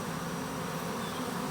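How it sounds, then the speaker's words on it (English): A honeybee swarm settled in a hive, giving a dense, continuous buzz of many bees that stays steady and fairly loud throughout. "I am pleased to see a lot of the bees are staying inside"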